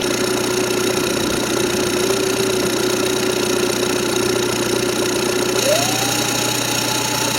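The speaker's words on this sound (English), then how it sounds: "Give it a second and the turbo will actually kick over." A Volkswagen Jetta turbo engine runs at a steady idle, loud and close, with a whistling tone that holds level and then rises sharply near the end as the turbo spools up.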